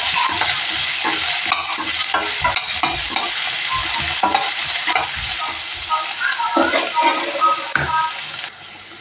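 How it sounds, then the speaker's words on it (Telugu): Garlic, green chilli and onion fry in a pan with a loud, continuous sizzle, broken by frequent clinks and scrapes from stirring. "కొంచెం వెల్లుల్లిపాయలు, గ్రీన్ చిల్లీ, కొంచెం ఆనియన్, ఇవన్నీ బాగా ఫ్రై చేసుకుందాం."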